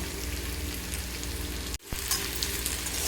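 Eggplant and tomato frying in a pan with potato, stirred as they cook, producing a loud continuous sizzle with a brief break partway through; no speech.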